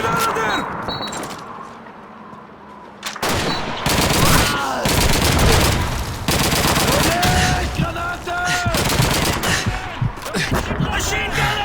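Enemy MG machine gun fire in Call of Duty 2 rattles in dense, loud bursts across a chaotic battlefield, mixed with other gunshots and shouted voices.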